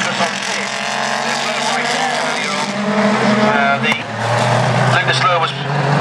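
Race cars roaring past on a circuit, the Muscle Milk car among them, engines loud and close with a sharp passing surge midway, under continuous commentary.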